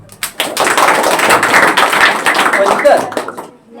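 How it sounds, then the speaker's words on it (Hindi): Students in a classroom clap together in a dense, lively burst lasting about three seconds, then it fades out. "ताली बजाओ"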